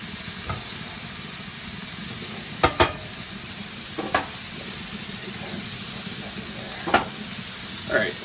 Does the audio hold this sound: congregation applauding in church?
no